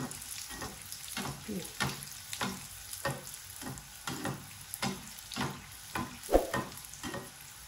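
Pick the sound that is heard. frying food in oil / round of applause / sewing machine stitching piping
frying food in oil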